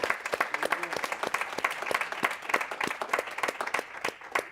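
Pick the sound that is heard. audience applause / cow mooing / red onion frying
audience applause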